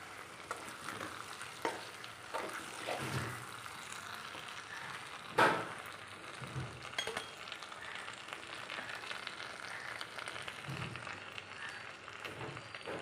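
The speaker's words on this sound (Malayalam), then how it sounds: "നന്നായിട്ട് ഇളക്കാം" Chilli gobi being stirred with chilli sauce in a hot pan, a steady sizzle and fry with repeated scraping strokes of the spoon and one sharper clatter midway, no voices.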